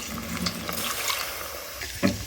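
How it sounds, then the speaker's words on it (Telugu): Water is poured into a pot of cooked mango pieces for South Indian mango dal, a steady splashing pour close by that lasts about two seconds, with no talk. "ఈ సమయంలో మనకు కావాల్సిన నీళ్లు కలుపుకోవచ్చు"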